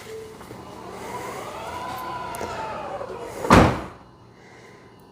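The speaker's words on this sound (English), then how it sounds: "So let's see what the trunk closes and looks like." The trunk of a Tesla Model Y whirs shut under power and closes with a single solid thud near the end, and a voice is heard faintly.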